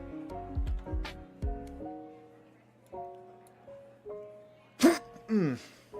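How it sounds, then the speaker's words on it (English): One sharp, explosive sneeze bursts out partway through, surrounded by soft hums and throaty vocal sounds close to the microphone. "Excuse me, had to sneeze."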